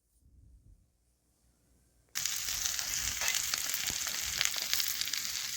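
Turmeric powder stirred into spices frying in a pan sets off a loud, steady sizzle that bursts in suddenly after a quiet start and carries on with faint scraping.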